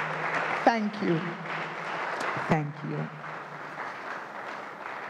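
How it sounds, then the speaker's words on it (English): An audience claps after a lecturer on blood pressure and hypertension is introduced at an academic event, a steady broadband patter of many hands that runs throughout, with a speaker briefly talking over it. "go ahead and applaud him"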